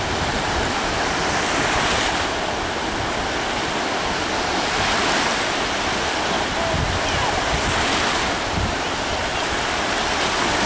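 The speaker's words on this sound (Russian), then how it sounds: "И такое вот море беспокойное." Rough sea surf rolling onto Dzintari beach, Latvia, a continuous loud wash of breaking waves with periodic swells and light wind noise, no talking.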